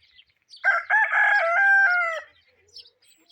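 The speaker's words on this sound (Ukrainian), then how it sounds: "І півень підспівує." A rooster crows once in a village under a cloudy sky, loud and close, a long drawn-out call with no talking around it.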